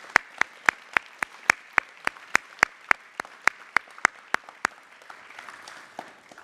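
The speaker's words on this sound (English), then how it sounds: "round of applause?" A small audience at a school Year 6 and Year 9 promotion ceremony claps in a sparse, slow rhythm of about twenty distinct hand claps, fairly close, then the claps fade into faint room murmur.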